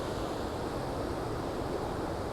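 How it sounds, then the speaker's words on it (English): Small low-tide waves wash onto a San Francisco beach in a steady, soft roar of surf blended with wind noise on the microphone, continuous and fairly faint with no distinct breaks. "It's low tide. The waves are not that big."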